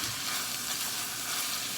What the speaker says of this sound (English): Stir that and mix all this up.